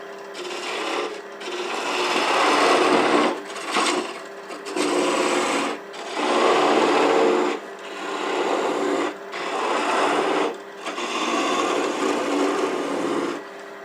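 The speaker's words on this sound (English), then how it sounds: "I'm going to resort to the skew to make that V-cut." A skew chisel cuts a V into scrap wood spinning on a lathe, a steady loud rasping whir in repeated bursts of two to three seconds, each separated by brief pauses, close by with no voices.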